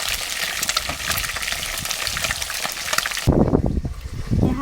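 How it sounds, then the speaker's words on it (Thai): Pork skewers deep-fry in a pan of hot oil with a steady, dense sizzle that fills the first few seconds, then the bubbling turns heavier and more uneven, with louder splashy crackles as the skewers are moved. "เดี๋ยวเราจะทอดจนสุกเหลืองเลยนะคะ"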